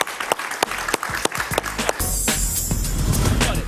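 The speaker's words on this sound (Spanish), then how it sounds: "Un aplauso para ella, por favor." Studio audience on a Spanish-language television talk show, with scattered sharp claps and knocks that swell into a continuous, loud wash of applause.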